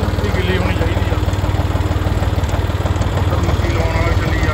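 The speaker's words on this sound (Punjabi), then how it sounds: "ਉੱਧਰ ਮੱਕੀ ਲਾਉਣ ਵਾਲਾ ਚੱਲੀ ਜਾਂਦਾ, ਟਰੈਕਟਰ ਚੱਲੀ ਜਾਂਦਾ" A tractor pulls a maize planter through a field, its engine throbbing in a steady, close, pulsing drone that stays loud and unbroken throughout.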